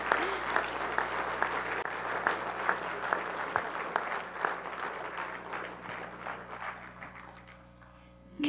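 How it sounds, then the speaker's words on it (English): Audience applause for Hall of Fame honorees at an induction ceremony, a steady dense clapping from a large crowd that carries on throughout and slowly thins toward the end. "Let's keep giving them a round of applause."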